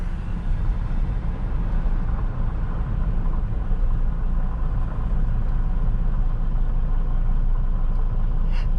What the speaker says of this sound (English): It sounds like a dry bearing sound.